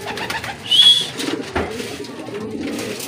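Racing pigeons coo softly in a short burst amid a low, steady background murmur, with faint rustling around them.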